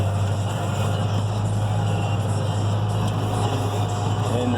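A tractor or farm vehicle drives slowly across a field while fall cover crop is planted, a steady low engine drone and broadband rumble that stays even and close throughout, with no clear talk over it.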